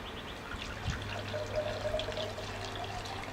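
Muddy, silty water stirred up in a container is poured out, a steady soft trickle and splash running close by for the whole few seconds, with no voices.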